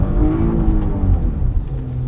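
Engine of a 2023 Porsche Cayenne S on a driving course, heard from inside the cabin, pulling steadily under acceleration with a droning engine note, loud and continuous over about two seconds.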